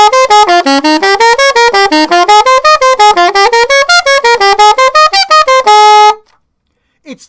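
Saxophone running a four-part harmony chord exercise as a rapid stream of detached, evenly spaced arpeggiated notes climbing and falling, loud and close, ending on a held tone followed by silence.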